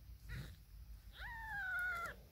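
A single high, drawn-out mew from a four-day-old British Shorthair kitten, rising then holding steady, close by, with a softer brief squeak just before it.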